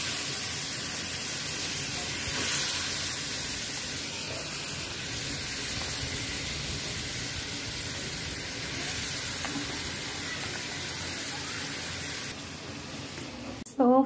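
Vegetables go into a pan of cooking shrimp, holding a steady, moderate sizzle and bubbling hiss throughout with a brief louder swell early on and a short clatter at the very end.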